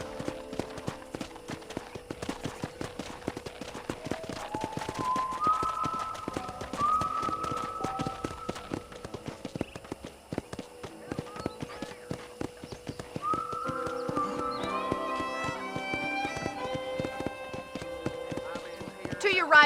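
Horse hooves clip-clop steadily at a walking pace around a ranch in Red Dead Redemption, with a horse's whinny and someone talking over the hoofbeats as music swells in the background.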